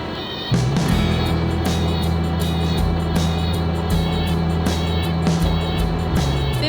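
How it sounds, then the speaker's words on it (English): Steady engine drone and road rumble from a car driving across Tierra del Fuego, after crossing the Strait of Magellan, heard from inside, loud and continuous with no voices. "we are driving now in Tierra del Fuego"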